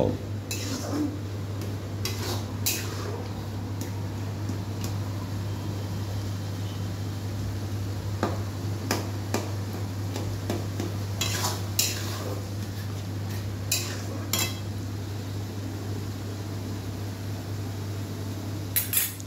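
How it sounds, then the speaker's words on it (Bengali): Potatoes are stirred with spices in a pan, the spoon scraping and clinking against the metal in scattered knocks over a steady low kitchen hum, with faint talk at times. "দিয়ে ভালো করে আলুগুলো মশলার সঙ্গে ভালো করে কষিয়ে নেবে"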